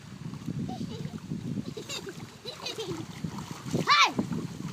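Water splashes in bursts as a child swims, with children's voices chattering and calling throughout and a brighter splash near the end.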